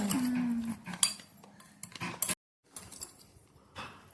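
Raw green mango pickle with salt, spice and sugar being stirred in a pot: a spoon clinks and scrapes against the metal in short, irregular bursts, with one brief silent gap.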